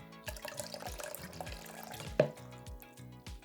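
Water glugs out of a single glass bottle in rapid rhythmic pulses, close and fairly quiet, with one sharper knock partway through and no talking.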